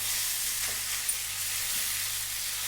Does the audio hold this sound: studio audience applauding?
no